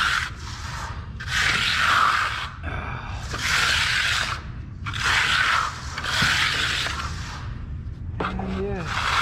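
A steel trowel scrapes and smooths wet concrete around a floor drain in long repeated sweeps, close and steady, with brief pauses between passes and a voice talking over the work.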